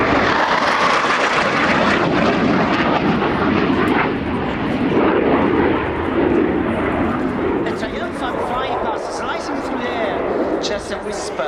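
Italian Air Force Eurofighter Typhoon jet makes a fast full-power pass at an air show, a loud continuous roaring rush of engine noise that swells and rumbles throughout, with no break in the sound.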